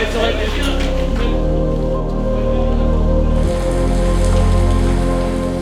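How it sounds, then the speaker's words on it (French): Rain falls on a construction site where large glazing panels are installed at a museum in Bordeaux, a steady close hiss over a low machinery hum, with faint voices in the background. "Il va se mettre à pleuvoir là."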